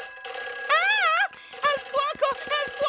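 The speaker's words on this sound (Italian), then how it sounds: "Peppa, quello è il telefono delle emergenze" An emergency telephone rings in a Peppa Pig cartoon, warbling electronic ring bursts repeating in quick pulses, loud and close.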